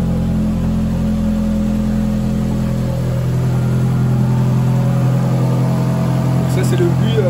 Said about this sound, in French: Ça c'est le bruit du V8 atmosphérique de Ferrari.